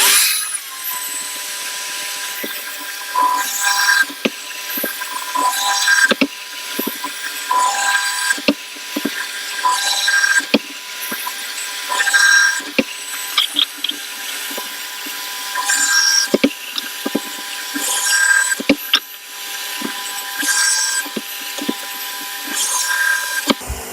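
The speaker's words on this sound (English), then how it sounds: "So let me make a start on drilling the holes." Drill bit boring pilot holes into the under-bonnet panel of a YB-powered Ford Escort MK1, heard as a steady whine in repeated short bursts with pauses and clicks between holes, close and fairly loud, with no talking.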